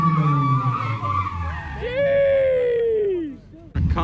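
Toyota JZX100 drifting with a long, loud tire skid and engine roar that rises and sweeps, close by, cutting off abruptly near the end amid background crowd noise.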